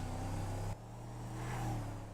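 The Dubsta 6x6 in GTA 5 holds a steady engine drone, then the tone drops abruptly and builds again as it pulls away at full throttle, a continuous game engine rumble with no talk.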